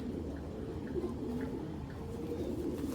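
A pair of racing pigeons coo softly at a farm, low repeated rolling coos over a steady hum of background noise, no talk.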